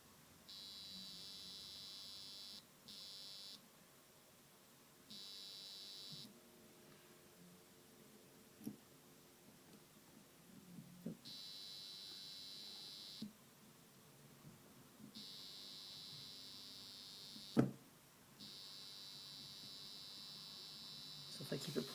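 A prototype oscillator circuit with a 0.33 microfarad capacitor gives a faint, high buzzing tone that switches on and off in repeated bursts of a few seconds each, with quiet clicks and handling noise between them.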